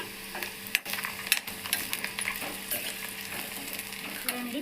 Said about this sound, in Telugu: వేసాను కదా, ఆనియన్స్ వేసాను, ఎగుతున్నాయి.